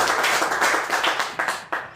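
Church congregation clapping during an evening worship service, loud and close, with a steady rhythmic beat of many hands that thins toward the end.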